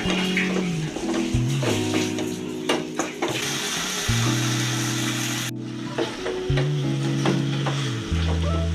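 Drumstick leaves (murungai keerai) sauté in a pan with a splash of cooked dal water, giving a steady close sizzle and frying hiss broken by repeated scraping stirs.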